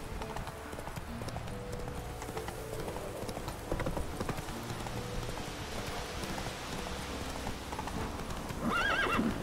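A horse in The Witcher 3 video game gallops with steady clip-clop hoofbeats over game ambience, and a whinny sounds near the end.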